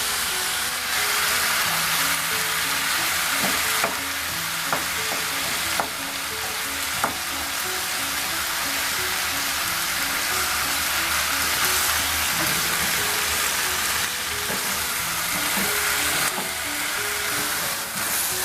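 Goat meat stir-frying in a pan, a loud steady sizzle and crackle with occasional scraping stirs, continuous throughout with no talking.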